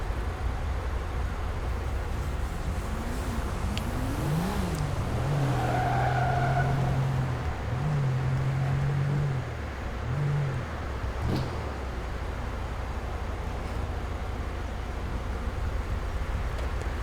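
Car engine idling and revving in GTA V, a steady rumble with rising and falling rev sweeps in the middle, close and fairly loud throughout.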